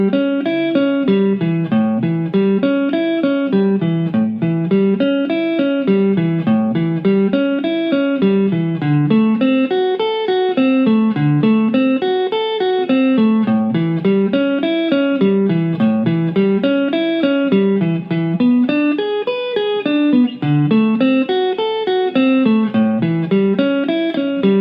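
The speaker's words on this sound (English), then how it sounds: "Now a good practice would be to play those 3 chords as a 12-bar blues." A guitar runs steady eighth-note chord tones through a 12-bar blues, a continuous cycling pattern of clear picked notes, loud and close with no voice over it.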